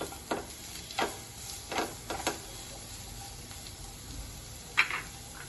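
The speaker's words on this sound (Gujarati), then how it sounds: "ચોપ કરેલી ડુંગળી એડ કરશું." Two chopped onions being sautéed in a pan for a homemade pizza sauce: a soft, steady sizzle broken by several sharp stirring scrapes at irregular intervals, close up with no talking.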